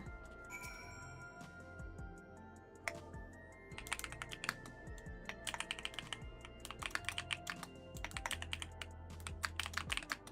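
Rapid keystrokes rattle on a computer keyboard as a search term is entered at a data terminal in Final Fantasy XIV, with bursts of clicks over a steady hum of background game music and no talking.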